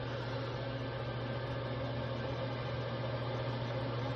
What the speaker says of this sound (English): So I'm gonna turn on the engine